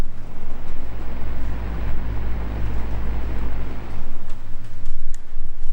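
Steady low whooshing rumble of an Ego fan running, picked up close from directly behind, continuous airflow with slight swells in loudness and no talk.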